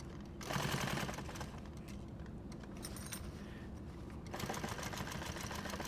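A sewing machine stitches nylon tactical gear with a fast mechanical chatter, running in bursts with a slower stretch in the middle, close and clear with no voices.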